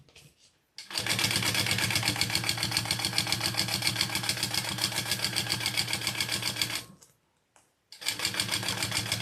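A sewing machine stitches a custom shoulder bag in a rapid, even mechanical rhythm, loud and close, running for several seconds, stopping briefly, then starting again.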